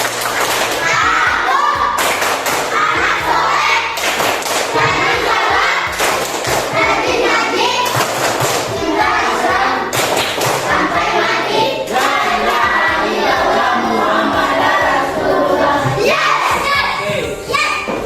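A classroom group of children claps the rhythmic 'tepuk anak soleh' clap, with loud, dense clapping and voices chanting along throughout, sharp irregular thuds cutting through the mix.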